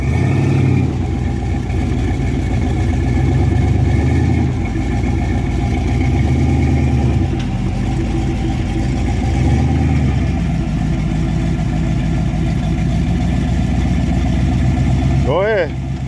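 Off-road rock crawler engine idling low and steady on a rock competition course at Rausch Creek off-road park, a continuous close rumble with slight rises in revs, with people talking over it.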